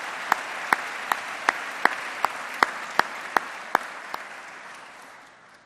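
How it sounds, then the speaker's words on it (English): An audience applauds at a city State of Metro Address, a dense wash of clapping with one loud, evenly paced clapper standing out near the microphone before the applause gradually dies away. "I don't know if that applause is for me"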